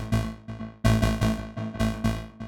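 Synthesizer patch in Bitwig's effects grid sent straight to the output, playing a sequence of bright, buzzy plucked notes with rich harmonics, each swelling and decaying in a steady rhythmic pattern.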